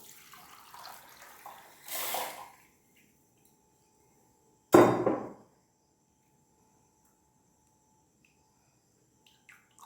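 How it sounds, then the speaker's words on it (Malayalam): Water poured through a strainer while making raw mango pickle comes as two short splashing bursts, the second louder and sharper, with near silence between and after. "നമുക്കിനി ഈ വെള്ളം കൂടെ അരിച്ചെടുക്കാം"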